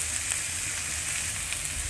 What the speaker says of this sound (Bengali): এই মশলাটা আমরা এটার সাথে ভালোভাবে তেলের সাথে ভেজে নেব